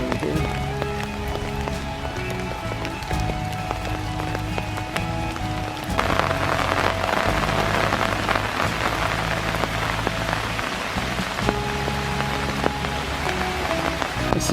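Steady rain falls on a wooded park trail during a dark morning hike, a continuous hiss of drops pattering on leaves and ground that grows slightly heavier partway through, with no talking.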